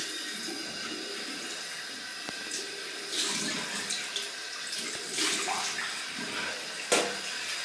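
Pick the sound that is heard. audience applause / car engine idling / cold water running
cold water running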